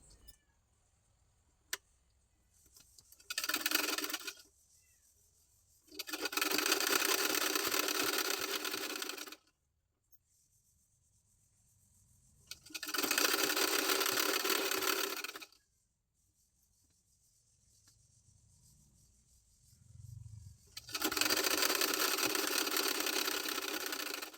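A sewing machine runs in bursts of rapid stitching as it joins a blouse's lining and main fabric. Four distinct runs of a few seconds each are separated by quiet pauses, with faint handling noises in between.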